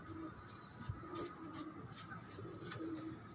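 A pigeon of the number-17 breed coos in low repeated calls on a rooftop, with faint scratchy sounds and light background noise.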